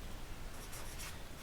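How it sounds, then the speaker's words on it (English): Pen or marker scratching out a word on a writing surface, a soft continuous rubbing with a few brighter strokes in the middle, close and quiet with no talking. "Let me write here."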